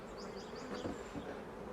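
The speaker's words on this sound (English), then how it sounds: "And you'll see the bees now are actually returning." Honeybees returning to a hive during a bee inspection make a continuous close buzzing drone, with individual bees whining past and some birdsong chirps audible in the background.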